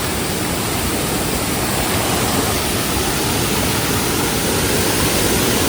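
Water of a small hillside waterfall tumbling into a stream near Kudli, Revdanda, a loud, close, continuous roar that stays steady throughout without speech.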